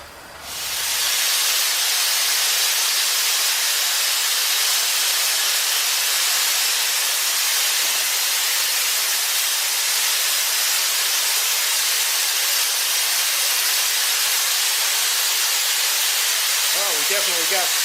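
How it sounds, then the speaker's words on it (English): Steam hissing from an old steam engine in a steam-powered machine shop, a loud continuous hiss that starts abruptly after a brief quiet moment and holds steady throughout. "Well, we definitely got steam."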